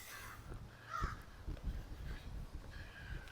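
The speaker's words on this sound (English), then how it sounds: "Crows having a few words over my head." Crows caw from overhead in an urban park on a September walk in Regina, with a few hoarse calls spread out over steady outdoor background noise.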